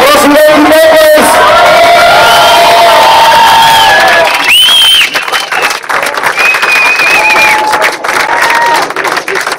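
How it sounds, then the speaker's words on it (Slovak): Loud stadium crowd at Vrbovské Vetry 2012 cheering, shouting and applauding as a helicopter lands, with whistles and whoops riding over a dense roar throughout. "Prosím, veľký potlesk!"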